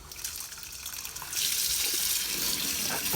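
Sorted beans are rinsed under a running kitchen tap; the water flows steadily and then grows louder and fuller as the stream strikes the beans and sink.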